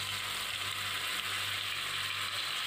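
Mutton pieces with cloves, green cardamom and a small piece of cinnamon stick sizzling steadily in hot oil in a kadai, a dense, continuous frying hiss that holds even and loud throughout with no voices.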